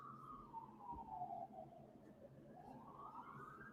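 A police siren wails faintly from outside, its pitch sweeping down and then climbing again in a slow cycle as it passes at a distance. Nobody speaks.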